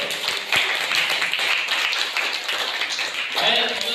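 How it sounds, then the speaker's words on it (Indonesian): A classroom of students claps together in a dense, busy burst of handclaps at moderate loudness, with voices chattering underneath throughout. "Tepuk tangan untuk"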